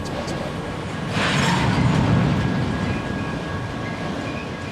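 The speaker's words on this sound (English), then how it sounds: "all the trains pass" A train rolls past close by, a steady broad rumble that swells in the middle and then eases off, with no talking over it.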